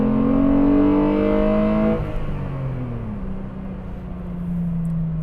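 A VR6 engine in an all-wheel-drive Golf Cabriolet revs hard and loud for about two seconds, then drops back and settles into a lower, steady drone as the car keeps running close by.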